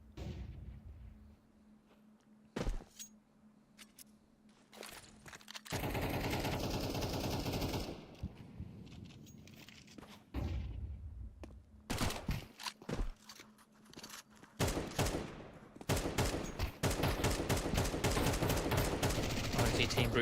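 Rifle gunfire on the Dust map in Counter-Strike: sharp single shots, then long sustained automatic bursts and rapid volleys, loud and close, with footsteps and a commentator talking over parts.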